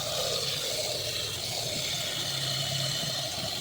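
Steady broadband rush of water running from a tap into a rice pot, continuous and fairly close, with a low hum underneath and no talking.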